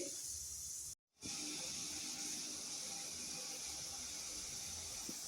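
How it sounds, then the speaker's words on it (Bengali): Water heating to a boil in a cooking pot gives a steady, faint hiss with a soft bubbling undertone, broken by one brief total dropout early on. "জলটা ফুটে ওঠা পর্যন্ত অপেক্ষা করছি"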